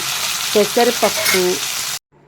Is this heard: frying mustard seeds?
yes